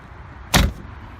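A Porsche 996 panel is shut with a single short, solid thud that stands out sharply from quiet surroundings.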